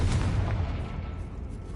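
Confringo blasting spell explosion in the Hogwarts Legacy video game, a low booming burst that rumbles and fades over a couple of seconds, loud and close with no talk.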